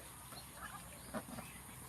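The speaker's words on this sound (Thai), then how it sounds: "ตอนนี้เป็ดเขาก็เริ่มมากินแล้วนะครับ" Ducks eat azolla, roots and leaves, given as a supplementary feed. The sound is faint, with a few soft quacks and dabbling noises over a low background.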